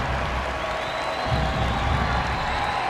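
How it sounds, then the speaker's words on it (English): A stadium crowd at a 2018 Thorns versus Reign women's soccer match applauds a departing player, producing a continuous wash of clapping and crowd noise that holds at a fairly even, full level throughout. "Crowd applauding the efforts of Caitlin Ford."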